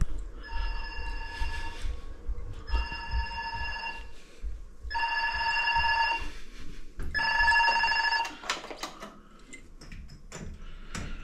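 A telephone rings in a home kitchen, four evenly spaced bell bursts, fairly clear and near, followed by brief clattering handling sounds.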